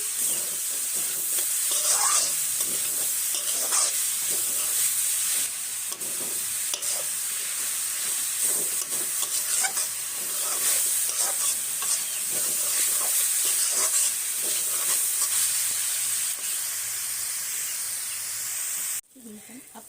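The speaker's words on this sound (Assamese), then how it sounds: "ধুনীয়াকৈ নাৰিকলখিনি ভাজিলোঁ" Steady sizzling and hissing from grated coconut and jaggery frying in a pan over low heat runs throughout, with faint stirring scrapes and an abrupt drop near the end.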